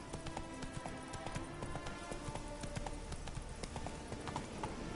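Roach the horse galloping in The Witcher game, a steady rapid clip-clop of hooves that runs throughout at even loudness.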